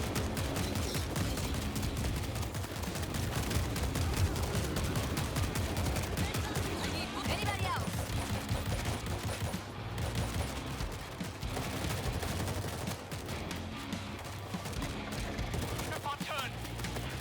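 Gunfire in a zombie battle crackles as dense, rapid overlapping shots, a continuous loud barrage of sharp bursts layered over a rumbling chaotic background for the whole stretch.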